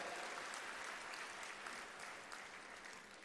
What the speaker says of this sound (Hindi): ताली बजा के उनका स्वागत करें, दिल्ली तक आवाज जाए